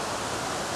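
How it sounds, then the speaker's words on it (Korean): The Huimang waterfall on Sobaeksan mountain roars as a dense, steady rush of falling water, loud and close, with no voices over it. "여기가 희망폭포."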